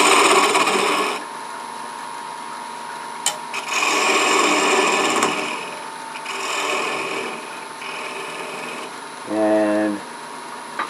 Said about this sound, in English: I'm going to use this 3/8 inch bowl gouge